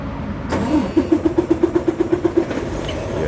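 A truck engine cranks with a rapid, even series of starter pulses and then catches into a running rumble, heard close and loud with no talking.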